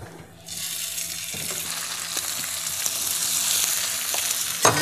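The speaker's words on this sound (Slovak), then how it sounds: "Panvicu máme poriadne rozohriatú, takže mäso si môžeme začať opekať." Turkey breast dropped into hot olive oil in a preheated pan, a quiet start that jumps into a loud, steady close sizzle with small crackles, ending in a sharp utensil knock.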